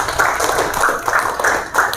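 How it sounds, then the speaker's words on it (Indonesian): A classroom claps hands for a student named Priscilia in a quick rhythmic pattern of sharp, evenly spaced claps, close and fairly loud, with no voices over it. "Tepuk tangan buat Priscilia."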